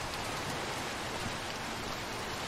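Steady rain in the video game Little Nightmares 2, a dense, even hiss of falling water that fills the whole stretch without pause and with no voices over it.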